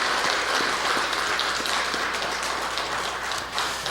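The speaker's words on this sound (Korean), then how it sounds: "우리 따뜻한 박수로 환영하도록 하겠습니다." A church congregation claps warmly to welcome new members at a New Year thanksgiving service, steady dense applause filling the room with no voices over it.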